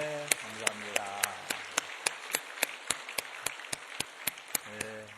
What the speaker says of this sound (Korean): 한 번 더 뜨겁게 박수해 드립시다.